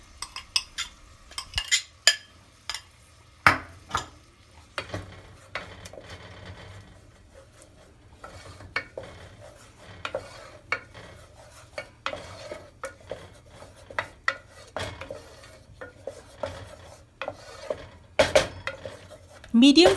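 Onion paste for a tomato-free mutton curry being stirred and fried in a pan over a medium flame, with repeated sharp clinks and scrapes of a spoon against the metal pan throughout and a faint sizzle underneath.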